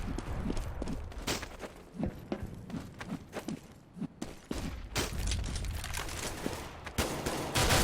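Gunfire in a Counter-Strike esports match, European Championships Sweden vs Portugal: dense bursts of rapid rifle shots, nearly continuous and loud, with a few brief pauses between volleys.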